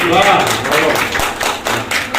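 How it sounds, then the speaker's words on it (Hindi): An audience claps at a mushaira poetry gathering, giving loud, dense, fairly close applause with scattered sharp claps and a voice mixed in. "एक मरतबा चाहता हूँ कि ताली बजा करके मेरी हौसला अफजाई कर दें।"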